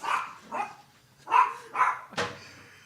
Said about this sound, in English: my dog attacked him